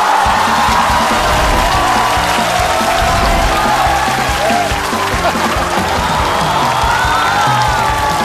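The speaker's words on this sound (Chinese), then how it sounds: "掌声欢迎。" A large New Year's Eve stand-up comedy show audience cheering and applauding, a loud, continuous roar of crowd noise with whoops sustained for the whole stretch.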